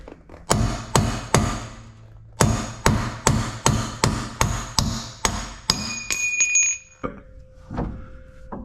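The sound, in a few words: hammering a punch to drive out a car axle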